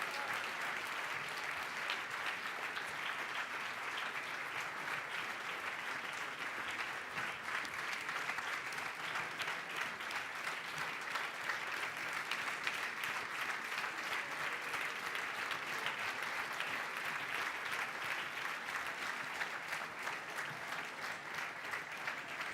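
A large audience at the Athens opening ceremony applauds steadily and loudly, a dense, unbroken wash of clapping that holds at full strength throughout with no voices standing out.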